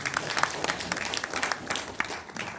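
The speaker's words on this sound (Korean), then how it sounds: "저한테 박수 한번 쳐주시죠." Audience applause at a regional forum on using microbes, dense continuous clapping from a crowd in a hall, moderately loud and steady throughout with a faint murmur of voices underneath.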